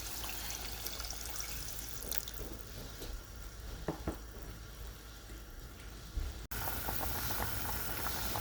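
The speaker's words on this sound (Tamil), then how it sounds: "இப்படி கொதித்து கொண்டு வரீங்க." Prawn curry gravy bubbles in a pot, a continuous close bubbling and hissing simmer with a few louder pops, growing briefly fuller near the end, with no speech over it.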